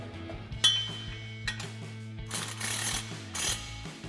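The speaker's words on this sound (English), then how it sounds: "Now we're going to tighten these down with a 14mm socket," Ratchet with a 14mm socket, swivel and extension tightening exhaust bolts on a 2022-2023 Toyota Tundra, faint metallic clicks and clatter in short bursts over a low steady hum.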